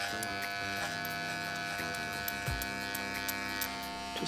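Electric hair clippers fitted with a 1.5 grade guard tapering a haircut give a steady, close buzz that holds unbroken for the whole stretch, with no voices over it.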